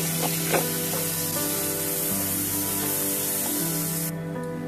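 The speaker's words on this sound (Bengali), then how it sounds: "এবারে এই তেলের মধ্যে দিয়ে দিব পেঁয়াজ কুচি।" Chopped onions, two medium ones, frying in hot oil, giving a continuous loud sizzle with light crackle under background music.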